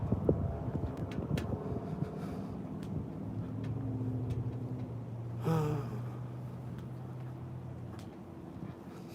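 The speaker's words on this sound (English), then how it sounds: "there's an engine sound right now. It's behind me." A car engine idles and rumbles behind someone standing on a street, a low steady hum with some wind buffeting the microphone and a brief rising whoosh partway through.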